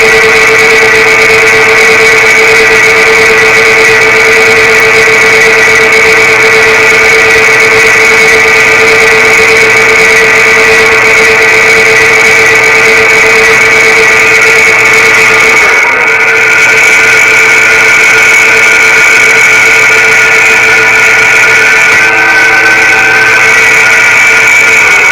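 Drill press boring a 1/2 inch hole partway through a steel bar to mimic a gun barrel for a tomahawk: a loud, constant machine whine with steady tonal bands and grinding noise, shifting slightly as the cut goes on, no speech.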